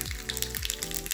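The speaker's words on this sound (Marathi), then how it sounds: "फोडणीसाठी आपण जिरे मोहरी घालतोय" Cumin and mustard seeds dropped into hot oil for tempering crackle and sizzle sharply, a brief burst of spitting pops close by with no talk.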